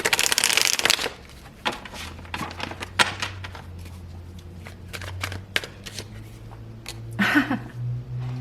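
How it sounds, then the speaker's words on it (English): Tarot cards are shuffled close up, with rapid riffling bursts, a bridge, and scattered taps and slaps, fairly soft, no voices. "You just saw me shuffle"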